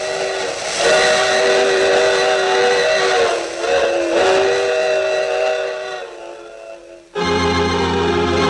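A steam train whistle used as a radio drama sound effect: a loud, sustained, breathy whistle that holds for several seconds, dips, then cuts back in abruptly near the end.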